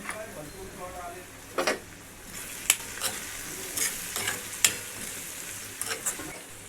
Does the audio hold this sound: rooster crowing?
no